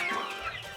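Laying hens being fed papaya leaves cluck close by in a brief, busy burst of overlapping clucks and murmurs.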